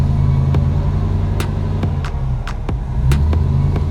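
A lopey, choppy idle from a big engine fitted with a stage 2 truck cam: loud, close rumble broken by uneven pops and lope pulses repeating every half second or so.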